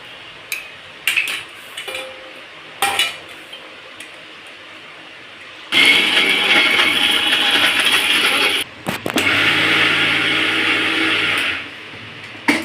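A mixer grinder whirs loudly in two bursts of several seconds each while it grinds tamarind chutney, preceded by short clicks and pulses of the jar.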